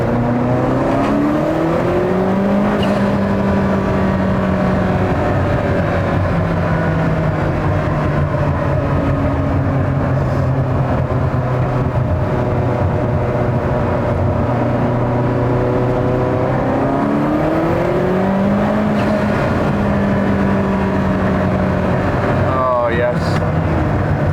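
A Ferrari F40 engine hums steadily while driving on a road test, with pitch rising and falling through gear changes and a brief revving shift near the end.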